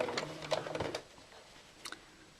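A sewing machine runs a short burst of back-tack stitches on a rocking horse project, a quick rattling whir lasting about a second, then a faint brief second burst.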